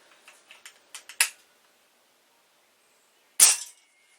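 A Stoeger A30 .177 air rifle, dieseling, fires a 7.4-grain pellet: one sharp, close crack after a few soft clicks of handling, with quiet around it.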